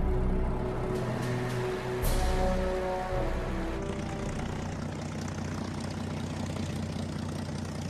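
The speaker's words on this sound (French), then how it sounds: "un groupe de chasseurs-bombardiers s'y pose sans encombre" A World War II fighter-bomber landing on a newly finished island airstrip, heard as a loud, continuous droning propeller engine with a slight surge midway.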